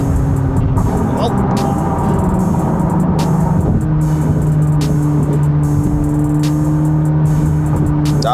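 A 1064 hp Chevrolet Corvette C8 ZR1 runs through downtown Chicago with a steady, loud engine drone, its pitch stepping up through a pull and holding high while a voice speaks briefly over it.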